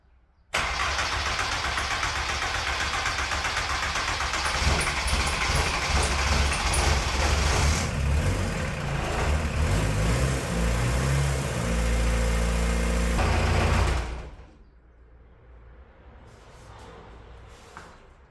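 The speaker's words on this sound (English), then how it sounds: "I put battery back just to try to start the engine" A VW Golf MK2 GTD diesel engine cranks, fires up and runs loudly up close, its idle settling into a steady rumble before it is switched off and quiet follows, with faint noises trailing afterward.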